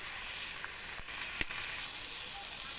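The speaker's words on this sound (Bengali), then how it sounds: "এখন আমি এখানে একটু সয়াবিন তেল দিয়ে এটাকে এখন ভাজা ভাজা করব।" Vegetables fry in soybean oil with a soft, continuous sizzle and hiss, fairly quiet, with a couple of brief crackles or clicks partway through.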